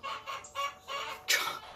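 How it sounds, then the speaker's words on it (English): Welsummer chickens cluck and squawk in a steady run of short, overlapping calls, fairly close and moderately loud, with one sharper, louder squawk near the end. "Welsumers are noisy chickens."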